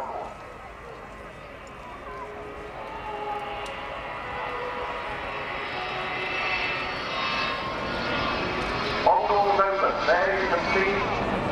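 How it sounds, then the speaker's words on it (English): Avro Vulcan B2 bomber at the Bournemouth Air Festival, its four Rolls-Royce Bristol Olympus 202 engines roaring loud and steady, building in intensity over the pass with a broad rushing jet tone and talk underneath. "sound of four Rolls-Royce Bristol Olympus 202 engines"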